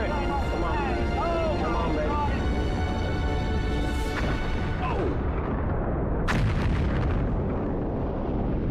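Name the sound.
Atlas rocket launch failing and exploding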